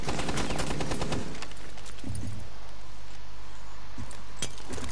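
Rapid automatic gunfire in Rainbow Six Siege, a loud burst of overlapping shots that stops after about a second, followed by a few scattered single shots and clinks against a steady background hum.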